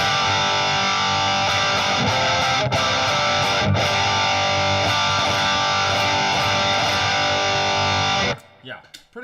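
Electric guitar played through Helix amp models with heavy distortion rings out in sustained, dense chords and notes for about eight seconds, then cuts off abruptly, leaving a faint tail.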